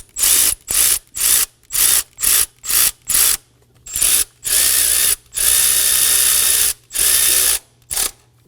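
Hand ratchet snugging the thermostat housing bolts on a 2016-2020 Kia Sorento 2.4L L4, a loud, close series of rapid clicking bursts with short pauses between strokes, then longer runs, with no talking.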